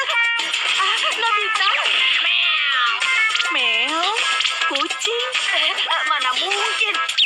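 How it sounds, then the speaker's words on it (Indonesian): Cartoon cat meowing repeatedly in a high, drawn-out voice, the calls loud and close and running almost continuously with wavering pitch, over light background music. "Meow. Kucing."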